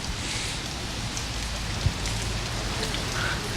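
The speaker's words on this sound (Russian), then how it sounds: "Все-таки идет дождь, я предлагаю перейти в укрытие какое-нибудь." Steady rain falls outdoors, a dense continuous patter on surfaces with no voices, holding an even level for a few seconds apart from one brief low knock midway.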